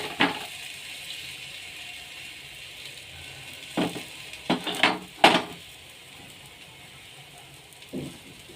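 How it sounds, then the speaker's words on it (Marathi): Methi thepla roasting with a little oil on a hot tawa over a medium flame, a faint low sizzle punctuated by a few sharp scraping and clinking touches of a spatula. "थोडंसं तेल घालायचं आहे आपल्याला तव्यावरती, जेणेकरून ते चिटकणार वगैरे नाहीत आणि थेपले छान असे खरपूस भाजून घ्यायचे आहेत"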